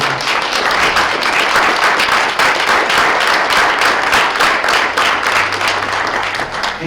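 Audience applause for the candidates at a candidates night, loud and close with dense clapping from a crowd that holds at a steady level throughout without fading.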